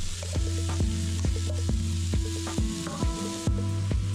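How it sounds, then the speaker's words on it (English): Onions, celery and carrots sauté in a pot with a steady sizzle, broken by regular scraping knocks of a spoon stirring roughly every half second, close and alone without talk. "Toss those onions, celery, and carrots right into the pot. Give them a quick stir and let them saute for 3 to 4 minutes."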